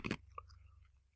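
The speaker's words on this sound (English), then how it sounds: "If you're hearing me like crunching on ice and drinking" A single sharp, close crunch of ice being bitten opens the moment, followed by faint softer chewing sounds in a quiet room.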